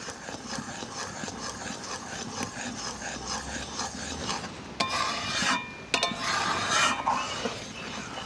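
A spoon stirs and scrapes fried semolina in a pan while making watermelon laddu, a continuous close rasping and rubbing with a couple of sharper knocks midway.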